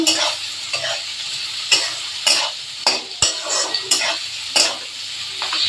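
Onions frying in oil with green chilli, tomato and turmeric in a pan, a steady close sizzle broken by repeated sharp scrapes and clinks of a spatula stirring against the pan.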